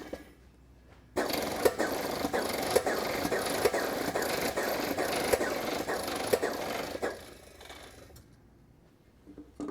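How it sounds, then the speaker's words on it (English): Airless spray pump's air motor running in a single sustained burst of rapid rhythmic pulsing lasting about seven seconds, then cutting off to near quiet. "I'll give it one more try with short bursts over the air motor to ensure that the fluid does come out"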